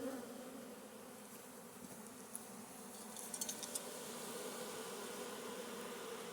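Bees at a hive entrance make a faint, steady buzzing drone, quiet and continuous, with a few small metallic clinks partway through.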